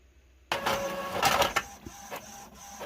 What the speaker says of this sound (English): So I'm going to go ahead and print.